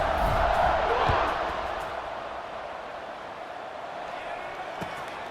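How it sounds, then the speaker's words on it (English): A stadium crowd roars in a college football video game during a Tulane vs UAB matchup, a dense, steady wash of cheering that is loudest at first and then settles into a sustained background rumble. "this crowd is feeling themselves after that last drive"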